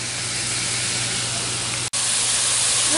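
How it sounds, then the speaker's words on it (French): Bell pepper, mushrooms and onion frying in margarine in a pot give a steady, close hiss of sizzling, broken once by a brief dropout, with no talking. "je prends tout mon poivron, mes champignons, mon oignon et je vais les faire rôtir un peu."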